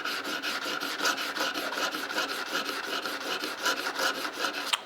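The flat back side of a knife scrapes back and forth on a sharpening stone in quick, even, rhythmic rasping strokes, close and clear with no talk.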